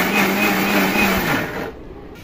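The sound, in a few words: blender grinding ginger garlic paste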